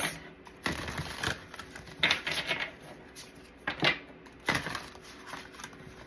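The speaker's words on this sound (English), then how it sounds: "Oh, this is hard to shuffle." Tarot card deck being shuffled, a series of sharp papery riffles and slaps in irregular bursts, close and fairly quiet, with no talking.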